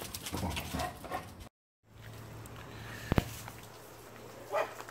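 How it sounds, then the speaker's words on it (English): Several excitable dogs at home make short barks and whines, loud at the start, with a steady low hum after a brief silent gap and a couple of sharp knocks later. "With the crazy dogs again."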